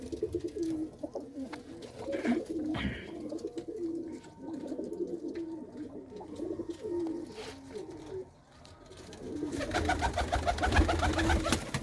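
White-eyed Kikkar Maan pigeons coo steadily in a loft, overlapping throaty calls repeating at close range, with a louder flurry of rustling and calls toward the end.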